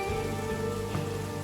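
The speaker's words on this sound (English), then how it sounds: "I'm seeing the rain slowing." Steady rain falls continuously as a dense, even wash of drops beating on a surface, with no speech over it.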